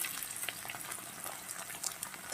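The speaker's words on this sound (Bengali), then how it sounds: "আলুটা ভেজে নিই" Potatoes fry in hot oil with a faint, steady hiss and crackle, small pops scattered through it and no voices.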